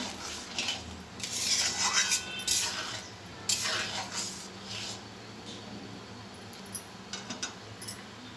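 A spoon clinks and scrapes against a cooking pot while lentil dal with bottle gourd and chopped coriander is stirred, producing light irregular metallic taps and rattles close by over a quiet background.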